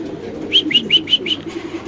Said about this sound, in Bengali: একদম অস্থির কোয়ালিটির একজন কবুতর